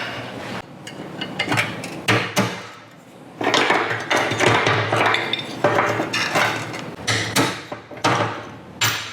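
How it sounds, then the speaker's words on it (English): Sharp metallic strikes ring out in irregular bursts, a hammer driving a punch against metal on a 35-year-old Ford Ranger's latch mechanism, loud and close with brief pauses between blows. "Cool, hammer and punch time."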